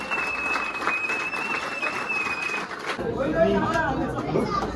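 A crowd claps loudly for the Nashik team at a Hanuman Jayanti 2024 gathering in a burst lasting about three seconds, after which voices and chatter take over.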